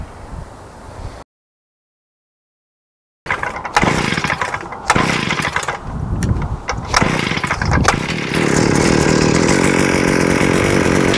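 A gas-powered auger drills fence post holes for a cedar fence, its small engine revving loud and close, rising and falling as it bites into the ground before settling into a steady, sustained roar.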